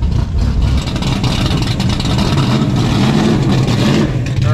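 A Mercury Cougar drag car's engine revs hard and loud at close range, a dense, sustained roar at a drag strip with a faint voice beneath.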